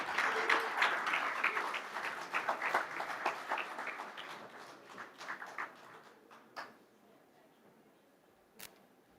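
Audience clapping at the close of a formal session, starting full and dense with many hands, then thinning out to scattered claps that fade to near silence by the end.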